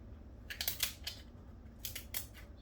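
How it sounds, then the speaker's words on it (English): Kitchen shears snip down the middle of a lobster tail shell, a few close, crisp crunching cuts in two short bursts over quiet background. "For our lobster tails, I'm just going to cut down the middle here"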